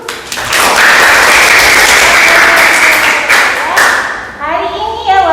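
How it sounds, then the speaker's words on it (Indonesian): Schoolchildren in a classroom clap together loudly and closely in a burst of about four seconds that ends abruptly, followed by a moment of children's chatter. "Bagus ya anak-anak, tepuk tangan dulu."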